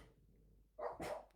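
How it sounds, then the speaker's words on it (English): A dog barks once or twice at close range after a brief silence, loud sharp yaps with a growly edge. "I'll stop my dogs from barking"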